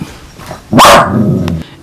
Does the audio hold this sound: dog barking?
yes